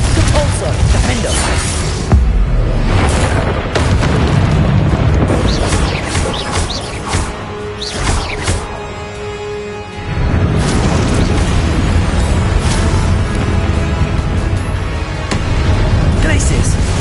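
Booming spell blasts and crashes from the Hogwarts Legacy video game burst repeatedly over a dense, loud battle mix, with a short lull midway before the impacts resume; a voice speaks throughout.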